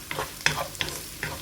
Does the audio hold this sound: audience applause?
no